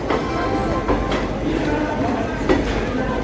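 A special passenger train on a Punjab-to-Kolkata journey runs near Prayagraj, its steady rolling rumble broken by a few sharp clacks from the wheels over rail joints.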